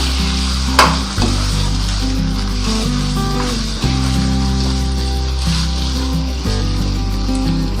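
Green chillies go into mutton frying in a pot for Peshawari namkeen gosht, giving a loud, continuous sizzle with a couple of brief clatters as the pieces are stirred, close and steady throughout.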